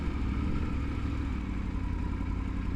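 A motorcycle engine runs with a low, throbbing rumble during a ride at Walton on the Naze, Essex, held steady and close throughout.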